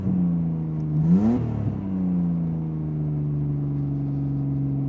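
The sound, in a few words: 1954 International farm truck engine revving at high idle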